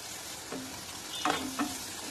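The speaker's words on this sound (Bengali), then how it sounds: "পেঁয়াজটা অনেকটা ভাজা হয়ে গেছে" Steady oily sizzle of onions frying with turmeric in a pan, with a couple of soft scraping stirs partway through; no talking.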